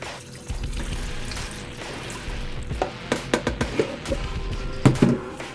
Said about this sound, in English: So I'm just gonna add this to the pressure cooker.